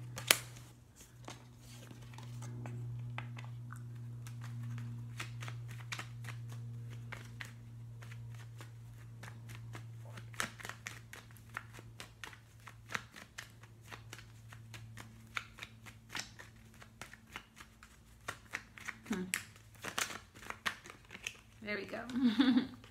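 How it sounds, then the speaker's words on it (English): Tarot cards are shuffled again and again with crisp, papery riffling over a low steady hum, with a louder flurry of shuffling toward the end. "Just want to shuffle one time."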